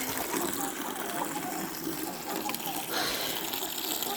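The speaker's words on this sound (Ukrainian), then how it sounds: "Зараз водику наливаю." Water gushes and splashes steadily into a poultry drinker, a continuous close pouring sound without pause.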